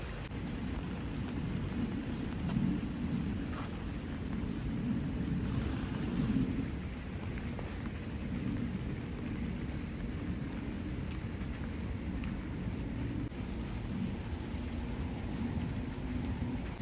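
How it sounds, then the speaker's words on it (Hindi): Heavy rain pours down with thunder, a continuous, even hiss of falling water with occasional low rumbles beneath, steady from start to finish with no voices. "अब तो बारिश भी तेज़ हो गई है।"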